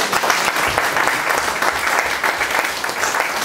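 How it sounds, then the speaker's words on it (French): An audience applauds steadily, a dense wash of clapping hands that holds at an even level throughout. "Bien, on peut l'applaudir."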